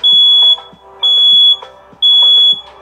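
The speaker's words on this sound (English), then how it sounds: "The sound of an active smoke detector can be overwhelming to anyone" A smoke detector sounds its alarm as loud, high-pitched beeps in a steady three-part pattern, each tone about half a second long and repeating at regular intervals, close and dominant with no speech.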